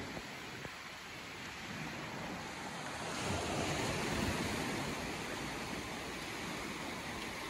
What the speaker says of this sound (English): It's a long, long beach. It goes for miles and miles.